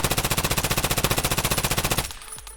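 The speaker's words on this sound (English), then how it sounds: "so now let's take some shots while standing straight" Sustained full-auto MCX rifle fire in Escape From Tarkov, a rapid, even stream of loud shots lasting about two seconds before cutting off into a short echoing tail.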